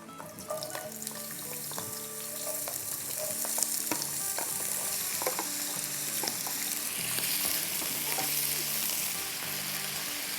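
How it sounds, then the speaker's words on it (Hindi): Potato sticks cut like French fries fry in hot oil for a pulao, giving a steady, close, fairly loud sizzle with intermittent scraping and clinking as they are turned. "चलो ये फ्राई हो रहा है"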